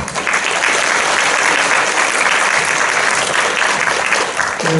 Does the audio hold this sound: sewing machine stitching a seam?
no